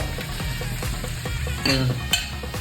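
Half a kilo of small shallots fry with crushed garlic, cumin, fennel and curry leaves for a toddy-shop fish curry, sizzling loudly and continuously up close while a spoon stirs and knocks against the pan.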